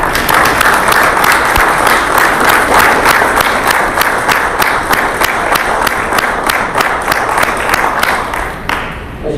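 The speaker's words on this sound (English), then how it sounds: "and a round of applause." A large crowd applauds steadily and loudly, with dense, sustained clapping that continues the whole time and fades slightly near the end.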